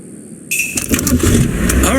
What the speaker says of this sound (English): Start car.